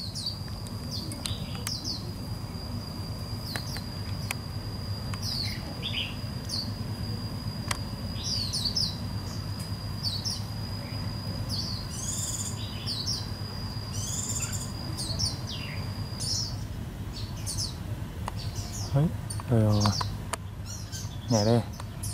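A flock of white-eye birds gathers around a caged fledgling white-eye, giving repeated short, high chirps that come and go across the whole stretch, while people talk softly nearby.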